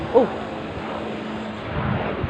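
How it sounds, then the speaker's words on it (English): A small propeller plane passes overhead outdoors on a street morning, a steady broadband engine drone holding through the clip with a faint low hum, fading slightly near the end. "a small plane going over my head as usual."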